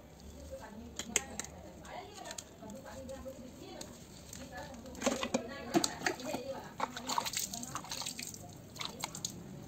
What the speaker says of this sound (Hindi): पूरे चेहरे में पानी डाल देना